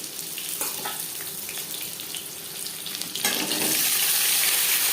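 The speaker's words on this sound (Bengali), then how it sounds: "পনেরো 20 সেকেন্ড 5 ফোড়ন, তেজপাতা ভেজে নেওয়ার পর দিয়ে দেবো আলু।" Potatoes go into hot oil after bay leaf and whole spices for a rui fish curry, and a soft sizzle swells into a louder, steady frying hiss partway through.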